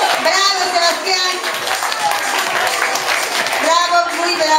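Audience applause for a first-grade student named Sebastián, a steady wash of clapping across the whole stretch with voices speaking and calling out over it.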